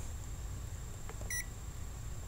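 A digital multimeter set to continuity gives one short, sharp electronic beep while testing components on a TCL 4 Series TV power board, heard alone over a low steady hum in a quiet room.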